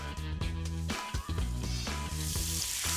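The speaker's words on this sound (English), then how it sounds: "Then add olive oil to a hot frying pan." Mushrooms sizzle and crackle loudly in olive oil in a hot frying pan, a steady frying hiss with some stirring.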